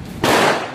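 One sharp, loud report from a Smith & Wesson M15-4 revolver firing a .38 Special 158-grain FMJ round at a shooting range, a single close blast with a brief decaying tail.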